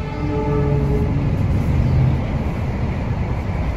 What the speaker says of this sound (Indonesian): kalau ada perlintasan ada kereta api gini tuh kita bisa lihat kereta